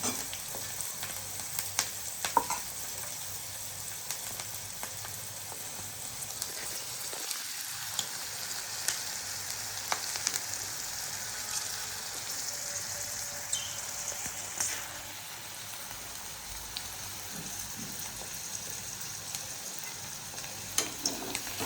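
Chopped fresh green turmeric root sabzi sizzles and crackles steadily in a hot pan while it is stirred, with occasional scraping and soft clatter, close and unbroken for over twenty seconds without talk.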